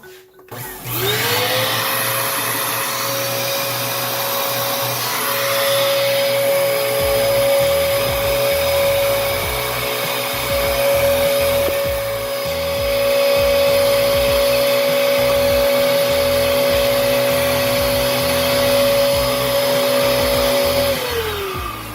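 A repaired vacuum cleaner runs steadily for about twenty seconds, starting with a rising whine that settles into a constant loud motor hum and airflow roar, then winding down slightly at the end; no voices.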